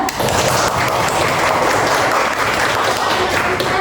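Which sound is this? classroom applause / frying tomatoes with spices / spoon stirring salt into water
classroom applause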